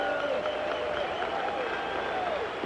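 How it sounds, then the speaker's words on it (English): Baseball stadium crowd at a Cubs at Mets game roaring and cheering steadily, a dense, loud wash of voices and applause filling the whole moment without letup. "Oh, what a way with the crowd roaring."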